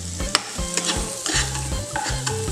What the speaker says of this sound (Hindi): इसको 1/2 मिनट के लिए भूनेंगे।